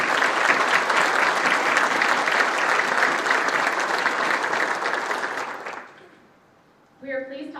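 An audience at a veterans' anniversary breakfast applauds loudly and steadily for several seconds, fading out before a voice begins speaking over a public address system.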